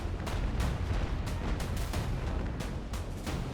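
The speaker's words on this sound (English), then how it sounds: "they're firing back and forth here at pretty long ranges right now" Cannons boom back and forth between sailing warships in the naval battle game Naval Action, a rapid run of heavy distant shots rolling over a constant low rumble.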